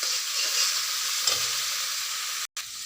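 Spices fry in a pan for a fish curry with dried fish, giving a continuous, even hiss and sizzle that briefly cuts out near the end before resuming.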